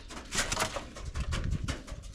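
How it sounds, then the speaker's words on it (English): Pigeons in a coop cooing close by, soft repeated low murmurs overlapping in a steady, gently pulsing chorus with rustling, no speech. "Pigeons, you can see them."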